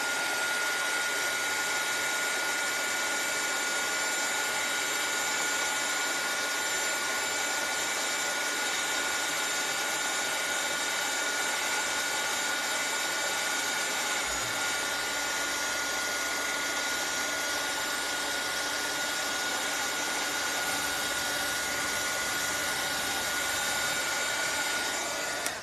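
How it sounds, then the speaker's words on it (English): A handheld dryer runs continuously to dry paint on a Christmas gnome craft, a steady loud whooshing hum held close and unbroken, with no talking. "I'm gonna hit this with the dryer for a quick second so I can do a second coat on it"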